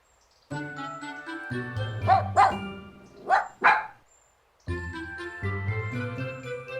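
A cartoon puppy barks in four sharp yips, grouped in two quick pairs, in a gap between bright musical passages from a Mickey Mouse cartoon.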